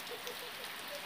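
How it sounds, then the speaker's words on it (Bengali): Steady rain falls over a morning, a soft even hiss of drops on a surface with faint scattered patters, continuous and fairly quiet throughout. "সকাল থেকে বৃষ্টি হইয়াই যাচ্ছে, হইয়াই যাচ্ছে, হইয়াই যাচ্ছে।"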